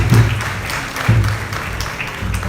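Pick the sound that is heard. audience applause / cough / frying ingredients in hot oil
audience applause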